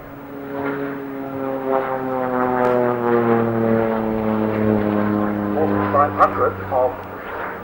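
The Cessna T-37 basic trainer at the 1992 Farnborough Air Show produces a steady, droning engine tone with strong humming harmonics, while someone narrates over it throughout.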